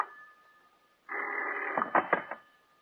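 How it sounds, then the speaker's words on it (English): Telephone bell ringing in a radio drama, a faint tone at first, then a loud sustained ring followed by a few sharp rapid bursts, close and alone. "the phone bell cut through the darkness like a knife"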